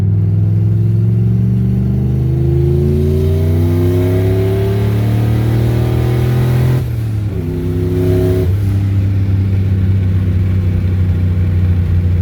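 A turbocharged Ford Mustang accelerates hard in a pull, its engine note climbing loudly through the revs, dipping briefly at a gear change near seven seconds, then rising again, close and dominant.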